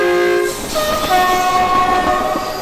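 A gadget blasts a loud multi-tone train horn as a steady sustained blare lasting over two seconds, close and dominant, with no speech.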